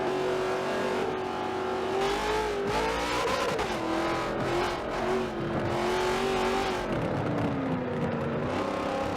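NASCAR race cars lap Daytona in a racing video game, with a steady, loud engine drone that rises and falls as the cars rev and shift, and faint tire noise underneath.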